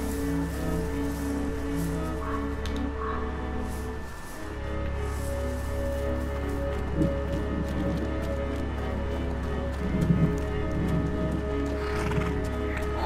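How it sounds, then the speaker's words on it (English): Horse neighing in the video game A Plague Tale: Innocence, a whinny rising briefly over a steady low game ambience with hoof clip-clops, rustling and faint background music. "Horse."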